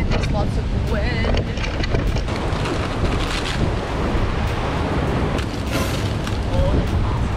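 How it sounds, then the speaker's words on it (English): Strong wind roars steadily across the microphone on a coastal beach at Cathedral Cove, New Zealand, a constant loud rush with surf underneath and no clear pauses. "there's lots of wind"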